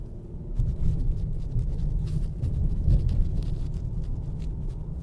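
A 2019 Jeep Cherokee Limited drives over a rough, potholed road, heard from inside the cabin as a steady low rumble of road and tyre noise with uneven bumps and thuds, and no talk.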